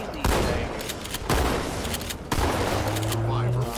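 Gunfire in the Halo MCC video game comes in three loud, rapid bursts of shots, each followed by lingering noise, with a steady tone running underneath toward the end.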